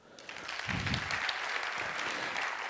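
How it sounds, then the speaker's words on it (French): Audience applause in a hall for a kind gesture, clapping rising quickly from a quiet start into a dense, steady ovation, with a brief low thump near the beginning. "Il faut applaudir ce geste."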